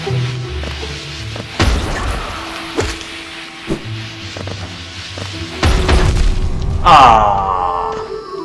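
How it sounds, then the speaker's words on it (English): Explosive bursts from enemies in the game Hollow Knight, a few loud booms and thuds spread across the stretch, the heaviest near the end, mixed with game effects and a voice talking. "Don't like the exploding things."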